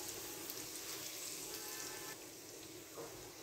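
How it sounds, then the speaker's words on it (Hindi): Garlic fries in a pan, giving a steady, faint, hissing sizzle that continues without a break throughout and never rises or falls sharply. "अब हम इसमें ऐड करेंगे लहसुन। 1 से 2 मिनट के लिए हम इसे भी फ्राई करेंगे।"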